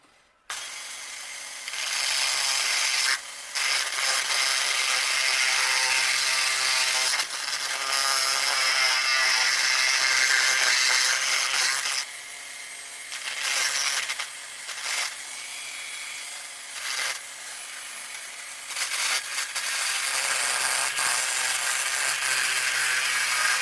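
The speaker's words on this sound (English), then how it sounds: "And the grinding wheel is not holding up well." Grinder with a grinding wheel cutting a part for a 1937 Buick Roadmaster signal light, a continuous loud high-pitched grinding whine with brief dips in pitch and pressure as the wheel bites.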